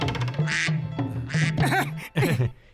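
Cartoon duck said to lay golden eggs, quacking in a run of bright, nasal calls, close and fairly loud, with short pauses between bursts and no speech over them.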